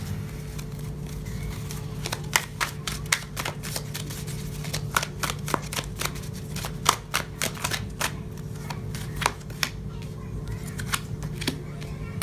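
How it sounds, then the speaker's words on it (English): Tarot cards riffled and snapped in rapid crisp bursts, then slid and pulled from the deck one at a time, close and clear over a low steady room hum. "Let me pull some clarifying cards."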